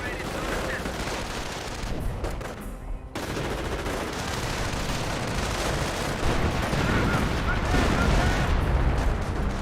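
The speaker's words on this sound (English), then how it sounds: "Creeping Barrage nailing the Panzer Grenadier" Artillery creeping barrage in the World War II strategy game Company of Heroes, a dense run of booming impacts and crackling gunfire that keeps going with a brief dip near the three-second mark.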